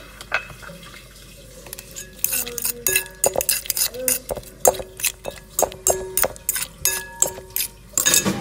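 A mixed salad with pickles is tossed in a bowl, producing a busy series of close utensil clinks, scrapes and wet squelches that speed up into a brisk, irregular rhythm.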